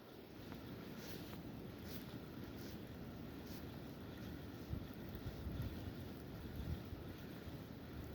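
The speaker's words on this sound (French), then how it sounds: "Là c'est bizarre le vent qu'on a là." Steady, blustery wind roars across an open microphone by a lake, with low rumbling gusts that swell slightly near the end.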